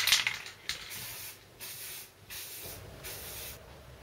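An aerosol can sprays a thin coat of paint onto a Mossberg 500 shotgun part in short hissing bursts, several close spurts separated by brief pauses, with no talking.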